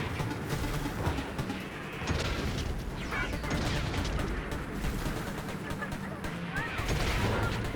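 Dense, rapid gunfire bursts from the video game Split Fiction during a mechanical boss fight fill the whole stretch, layered with crashes and mechanical clatter at a steady high level.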